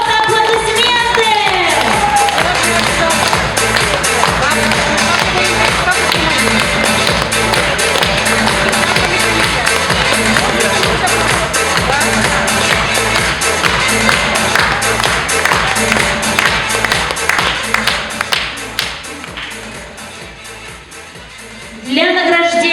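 Audience applause at a gala concert, a dense sustained clapping crowd filling the hall, loud and continuous before fading out near the end.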